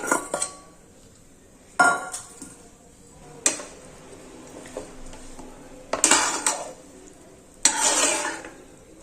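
Dates sautéing in ghee in a pan for date biscuits, heard as a handful of sharp spoon-on-pan clinks and scrapes spaced a couple of seconds apart, with quiet stretches between and no talk.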